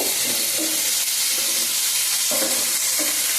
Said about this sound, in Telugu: ఇది కూడా వేస్తున్నాను ఇందులో ఎక్కువ వేయకూడదండి కొంచెం అట్లా లైట్గా టమాటాలు వేగిపోయిన తర్వాత దించేస్తే ముందు అయితే అది వేసి ఒక నిమిషం ఇలాగా ముందు కలుపుకోవాలి